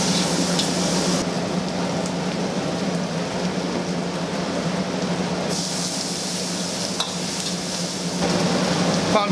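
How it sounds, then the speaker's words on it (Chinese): Fried chicken pieces being stir-fried in a wok with chili, ginger and garlic at a small town eatery, a continuous close sizzle with rustling stirring and scraping, no voices. "放入炸好的鸡子"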